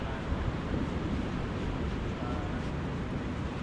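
Strong, gusty wind with rain roaring across open Dibut Beach in San Luis, Aurora, a dense continuous rush buffeting the microphone with low rumbling surges.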